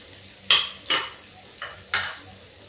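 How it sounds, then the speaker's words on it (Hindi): Onion and garlic sizzle faintly in a pan while a spoon scrapes through them in four distinct stirring strokes. "अब हम इसमें डाल देंगे प्याज कटा हुआ, और साथ में ही मेरा लहसुन"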